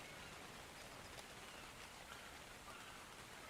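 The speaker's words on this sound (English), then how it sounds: "I do enjoy the sound of rain. This is very soothing for me." Steady rain pours in the video game Ark, a dense, even hiss of drops on surfaces holding constant for the whole stretch with no voices over it.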